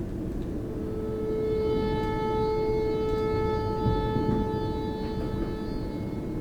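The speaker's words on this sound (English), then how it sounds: "it's likely just a malfunctioning tornado siren" A malfunctioning tornado siren wails steadily through stormy weather, its sustained pitched tone droning on for several seconds over a constant rumble of wind and rain.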